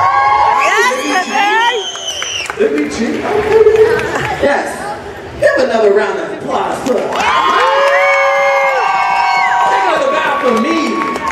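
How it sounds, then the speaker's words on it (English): An audience cheers and applauds, with children shouting and loud excited voices rising and falling over about eleven seconds, and crowd chatter running throughout. "Give another round of applause."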